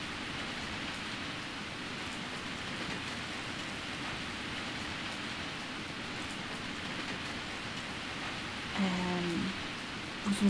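Heavy rain pours in the video game Story of Seasons: A Wonderful Life, a continuous even hiss of downpour throughout, with a short low tonal sound near the end.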